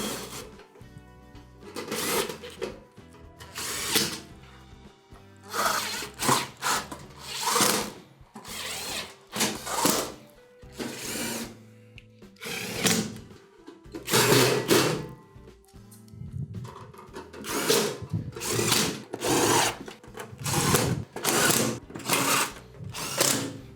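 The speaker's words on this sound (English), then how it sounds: "we can go ahead and start zipping our screws in all the way around" A power drill drives 1/4 inch screws into the back panel of a KitchenAid oven, a series of short whirring bursts with ramping motor pitch separated by brief pauses for each new screw, close and loud.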